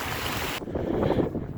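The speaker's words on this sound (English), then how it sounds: "the trail is basically a stream in this area" Snowmelt water streaming down a trail in Colorado's Eagles Nest Wilderness, a steady close rushing wash with gusts of wind buffeting the microphone throughout.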